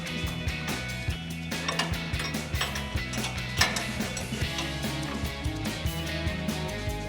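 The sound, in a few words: 19mm socket wrench removing strut bottom nut on Tacoma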